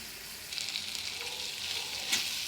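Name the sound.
prawns frying in a covered pan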